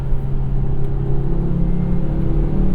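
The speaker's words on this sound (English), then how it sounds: "I love hearing that 5-cylinder" Volvo S60R five-cylinder turbo engine under acceleration, a steady, loud low rumble with a buzzing growl heard from inside the moving car, continuous throughout with no talk.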